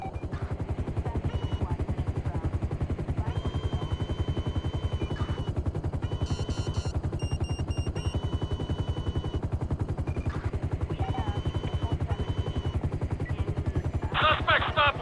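A helicopter in the video game GTA V chops with a fast, steady rotor pulse throughout, fairly faint, while game sounds such as brief bursts and beeps rise over it near the middle and end.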